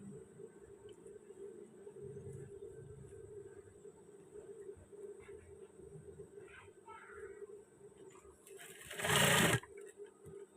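A sewing machine stitches a waistband in short, quiet runs with a low mechanical hum, followed near the end by a brief louder burst of noise.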